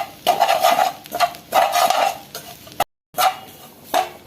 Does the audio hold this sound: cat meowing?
no